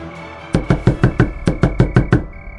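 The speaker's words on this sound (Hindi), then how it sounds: "कुणाल ने कांपते हाथों से दरवाजा खटखटाया।" Knocking on an old wooden door, nine sharp, evenly spaced raps in quick succession, close and loud, with no talking.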